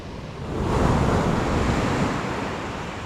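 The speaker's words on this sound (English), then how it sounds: "The surf is pretty big, but not quite as bad as I thought." Big ocean surf breaks on a sandy beach at New Smyrna Beach while surf fishing, a broad roaring wash of waves that swells and eases, with wind buffeting the microphone.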